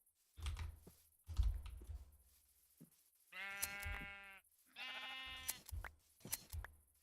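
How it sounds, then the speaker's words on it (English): Sheep bleat in the Minecraft video game, two distinct drawn-out bleats in quick succession among scattered clicks and soft thumps, fairly close and clear, with no talking. "I just realized there's all these sheep over here."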